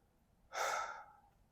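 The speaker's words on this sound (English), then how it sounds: "Do some nice breathing." A single deep breath, one soft but full exhale rising suddenly and trailing off, close and alone in a quiet setting.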